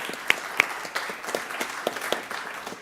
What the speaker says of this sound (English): let's give those employees a round of applause.